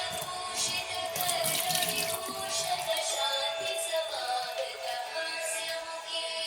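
Water runs steadily from a tap, a continuous splashing rush with no talking.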